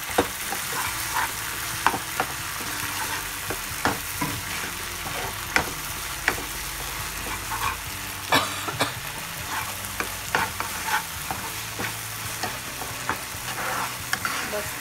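Prawn masala curry frying in a pan while a spoon stirs it, a continuous close sizzle broken by regular scraping clicks against the pan, with no talking.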